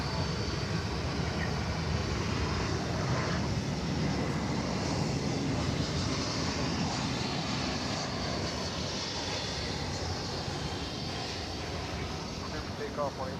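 An American Airlines Airbus A321 airliner at Dallas/Fort Worth airport gives a steady, broad jet engine roar that holds through the whole stretch, fairly distant, with a voice talking faintly underneath.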